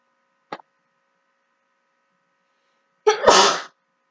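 A short sharp intake or catch, then after a pause one loud, close sneeze bursts out and stops abruptly in otherwise quiet surroundings.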